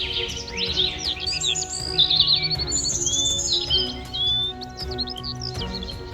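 Zoo birds chirp and tweet in a lively, overlapping chorus of high whistles and quick trills, moderately close and continuous with no talking.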